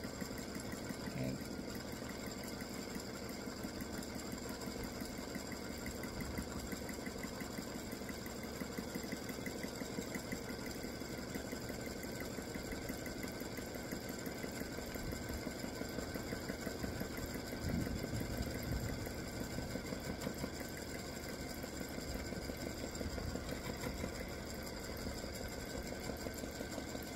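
Close and steady, an embroidery machine stitches free-standing lace earrings, its fast, even mechanical whirr and needle tapping humming continuously with a faint tonal whine and no speech.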